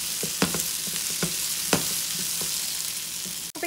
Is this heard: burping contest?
no